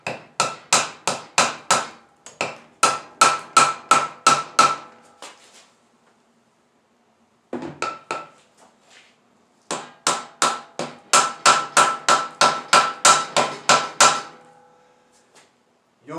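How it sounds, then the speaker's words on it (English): A Honda 450 motorcycle engine cover is tapped loose from the case with a hammer: rapid runs of sharp, loud knocks in quick bursts, pausing briefly between series. "Now we can give this cover a little tap and it'll work its way off."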